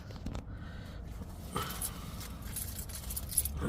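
Metal keys jangle and clink while a steering wheel anti-theft lock on a car is unlocked, a steady close rustle with a sharper rattle midway and a bright clink near the end.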